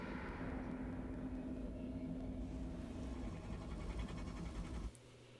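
Helicopter from the Tekken 3 ending cutscene, a steady whirring drone with rhythmic rotor chop held throughout, then dropping to a quieter hum at the end.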